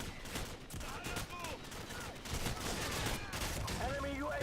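Rapid-fire gunshots in Call of Duty 4 with a modified fire rate, a dense, continuous stream of shots over game sounds, with a voice talking faintly alongside.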